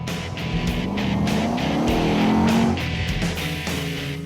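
A Mercedes-Benz SLK 55 AMG convertible engine runs at an airstrip, a steady rumble that swells briefly as it revs, heard moderately close with no talking.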